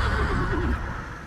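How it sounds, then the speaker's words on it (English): A horse whinnies in the dark fantasy game Lords of the Fallen, one loud, close, wavering neigh over a low rumble, fading out after about a second with no talk. "Oh, he's on a horse."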